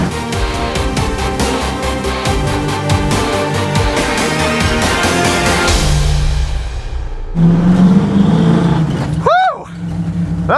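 A dirt race car with a hard-revving engine runs a lap, engine note climbing and shifting loudly and close, then easing to a lower drone with a brief squealing sweep near the end.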